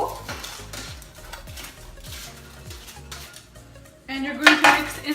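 Warm garlic fries tossed around in a bowl, with a steady run of rhythmic clattering and scraping against the bowl, growing louder and sharper near the end with bright metallic clinks.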